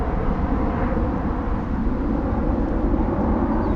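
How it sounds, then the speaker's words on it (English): A Virgin Atlantic Airbus A350 departs London Heathrow bound for Toronto, a steady, loud, broadband jet roar that holds throughout with no talk. "we've got a Virgin Atlantic headed to Toronto in Canada. Airbus A350."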